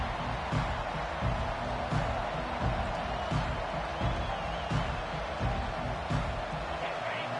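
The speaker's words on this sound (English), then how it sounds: "This crowd, full throat, spreading the eardrums" A stadium crowd at an Arkansas versus Clemson college football game roars in a continuous loud wash after a touchdown and kickoff, with scattered claps and shouts rising and falling under steady crowd noise.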